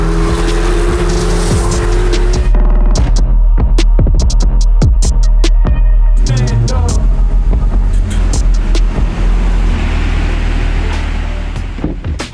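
The engine of a Chevrolet Corvette C8 ZR1 rumbles loud and close, with a deep steady roar and sharp transient pops and clicks, and it swells and fades slightly near the end.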